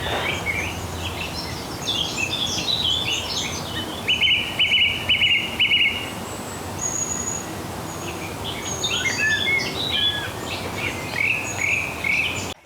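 Woodland birdsong with bright chirps and trills layered over a steady insect buzz, a dense continuous outdoor chorus with one louder bird phrase rising midway.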